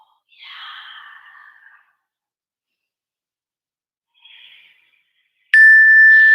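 A single bright bell ding rings out near the end of a quiet yoga class, clear and sustained, following a couple of soft breaths or sighs.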